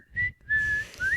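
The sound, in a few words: person whistling a tune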